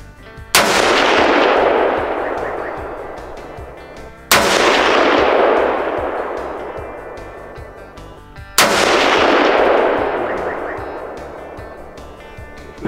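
Three loud rifle shots from a Sauer 303 firing 7x64 ammunition at a 200-meter range, each a sharp crack followed by a long rolling echo that fades, spaced about four seconds apart.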